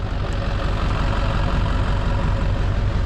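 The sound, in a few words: motor engine running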